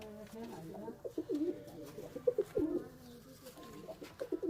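Several Bangladeshi high-flying pigeons cooing in a loft in soft, repeated low bursts, fairly close, with a faint background murmur.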